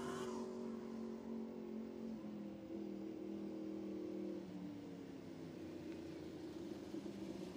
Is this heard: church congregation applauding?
no